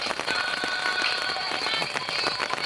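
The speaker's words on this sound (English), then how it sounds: "Bit of a rain shower, so just going to get out of it for a bit." Rain patters steadily on a tent during a wild camping trip, a dense, even hiss of drops close by, with no talking.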